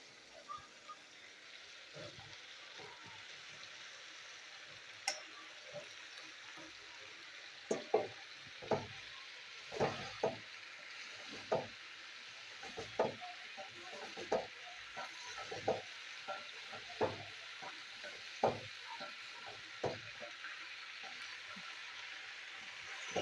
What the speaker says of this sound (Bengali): মশলার মধ্যে শিমগুলো একটু কষিয়ে নেবো।